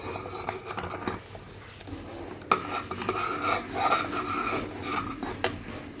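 A spoon scraping and rubbing through biulir dal in a pot as ginger and fennel paste is stirred in, steady rasping strokes with occasional clinks against the metal, close and moderately loud.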